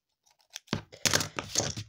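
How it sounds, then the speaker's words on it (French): Several short, crisp scissor snips and rustling cuts in quick succession while making a card, close by and fairly quiet, with no talking. "il faut absolument que je m'occupe de mes ciseaux"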